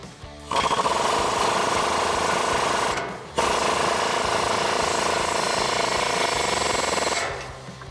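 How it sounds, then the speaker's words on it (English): A 19mm swivel socket on a power tool drives a castle nut down onto a Toyota Tacoma front outer tie rod, producing a loud, steady buzzing rattle in two long bursts separated by a brief pause, with no talking. "tighten down this nut here and reattach our cotter pin so it's set at the correct angle"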